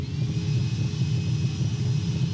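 A jet airliner taxis slowly on the ground in the flight game Project Flight, its engines giving a steady, loud low rumble with a faint whine, unbroken throughout.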